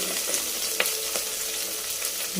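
Chopped onions and green chillies sizzle in a hot pan for tomato rice, a dense close frying hiss with a few light stirring clicks and no talking.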